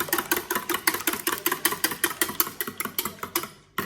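Eggs are beaten with a whisk in a bowl for scrambled eggs, a rapid, even rhythm of close, loud clicking strokes against the bowl that stops abruptly at the end, with no talk.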